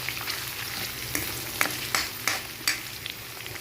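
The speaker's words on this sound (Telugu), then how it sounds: "ఆనియన్స్ కూడా వేస్తున్నానండి" Onions sizzle steadily in hot oil in a pan for tomato bath, with a spoon stirring and scraping through them in several sharp strokes, close and continuous, without talk.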